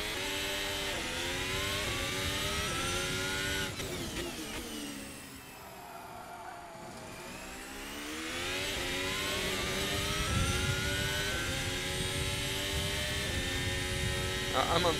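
The engine of an RSS Formula Hybrid 2022 race car in a video game is held near 9000 RPM at part throttle with a high, buzzing whine. The pitch sags as the clutch drops, then climbs steadily again as the car pulls away.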